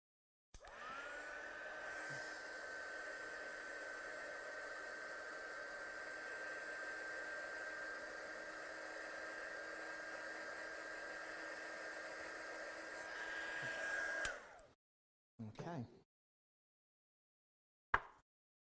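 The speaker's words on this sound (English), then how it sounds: "I'm just going to give it a quick blast with a gun just to make sure that's set before we do any other things to this card." A handheld heat gun blasts hot air over a freshly stamped handmade card, a steady loud whooshing roar held for about fourteen seconds before cutting off, followed by two brief short bursts.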